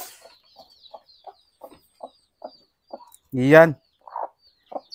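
Newly hatched chicks peep in a steady series of soft, evenly spaced chirps, with a louder hen cluck breaking in near the end, all heard close up.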